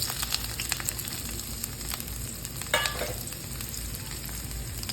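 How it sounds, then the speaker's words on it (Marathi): Finely chopped onion frying in hot oil in a kadhai, a steady dense sizzle and crackle close up, with a brief stirring scrape partway through and no voices. "बारीक कट केलेला कांदा टाकणार आहे मी"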